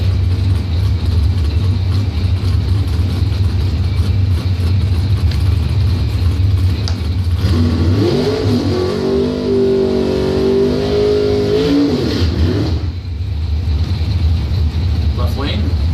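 A drag-race dragster engine roars loudly and steadily at a drag strip, rising into a revving surge partway through before settling back. A public-address voice talks over it.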